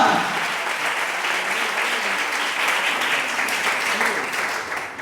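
A church congregation applauds steadily, a dense wash of clapping that holds for several seconds before tapering slightly at the end.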